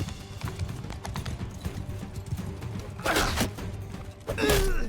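Horse hooves gallop in Mount & Blade II Bannerlord, rapid clip-clop beats under a busy battle din, with sharp louder clashes and impacts near the end.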